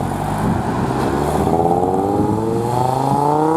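A Ford RS car engine revs up steadily, its pitch climbing loudly and smoothly over a few seconds, close by with no talking.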